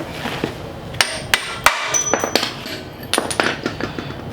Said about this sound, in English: I forgot the most important tool, hammer.